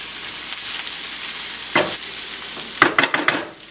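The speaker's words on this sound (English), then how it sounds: "So keep stirring for maybe a minute or so." Onions frying in a pan sizzle steadily while a utensil stirs them, with a few sharp scraping knocks near the end, close and without talk.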